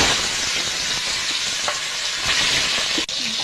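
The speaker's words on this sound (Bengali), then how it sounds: "বাকি মাছগুলো আমি ভেজে নেব" Steady, dense sizzling of fish frying in hot oil in a wok, close and continuous, with a faint clink near the end.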